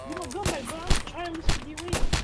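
Video game gunfire crackles in short bursts, several sharp shots spaced through the moment amid game music and effects, fairly loud and close.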